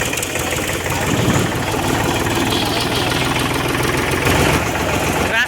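A vehicle engine runs steadily while driving along a flooded road, a constant close rumbling drone with a faint knocking vibration that never lets up, while voices seem to murmur underneath.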